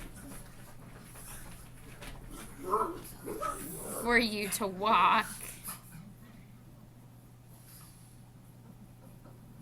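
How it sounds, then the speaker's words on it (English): Pet dogs playing indoors let out a cluster of yips, whimpers and small barks in the middle of the stretch. The sounds are moderately near and run alongside a person talking. "I'm really sorry if you guys can hear my dogs in the background."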